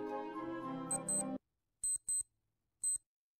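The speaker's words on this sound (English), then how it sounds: "There goes the timer." A kitchen timer alarm chimes in short, high-pitched beeping bursts, three separate rings with silences between, following a stretch of talk.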